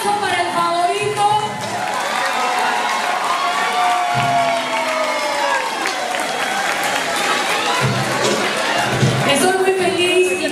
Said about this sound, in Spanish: Un aplauso para el favorito.